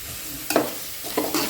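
Chopped onions sautéing with salt in a pan over a village cooking fire, a soft steady sizzle broken by a few scraping stirs of a spoon against the pan.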